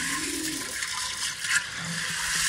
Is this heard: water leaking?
yes